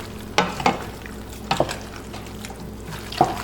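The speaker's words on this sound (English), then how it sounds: "Now mix everything in together." Drained pasta being stirred into a sun-dried tomato chicken sauce in a pot, with wet squelching stirs and a few sharper scrapes and clacks of the spoon at irregular intervals, fairly close.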